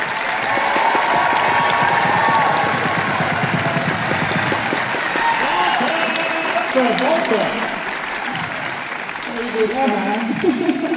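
An audience claps loudly and steadily for a Star Trek reunion panel at MegaCon 2026, a dense crowd applause that thins out toward the end as voices come through.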